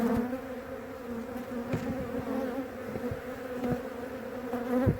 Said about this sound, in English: This is a colony of bees that I will probably split in half